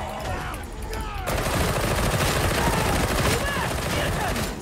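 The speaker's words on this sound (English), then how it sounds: "Is this an auto pistol or something? It's super fast." Rapid automatic gunfire in a Warhammer multiplayer video game, a loud unbroken burst of fast shots that intensifies after the first second, with players talking over it.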